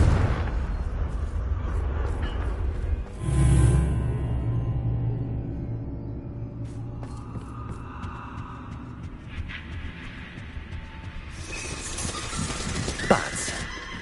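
Spell blasts from Confringo in Hogwarts Legacy: a heavy explosive burst near the start over a steady low rumble, with later crackling hits and a sharp impact toward the end.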